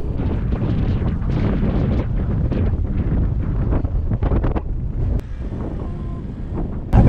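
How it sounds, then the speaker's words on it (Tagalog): Strong, cold wind at a seaside dike in Malabon buffets the microphone in a steady low roar, with rushing gusts throughout and a brief louder burst at the very end. "Lamig dito, lakas ng hangin."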